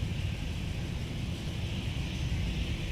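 A jet airliner powers up for takeoff on the runway at Minneapolis–Saint Paul airport, its steady engine roar and low rumble filling the air continuously at a moderate distance.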